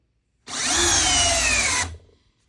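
A cordless drill in drill mode at speed 2 drives a screw into a timber lock, producing a single loud, steady high whine for just over a second that starts abruptly and then stops, with a brief fading tail.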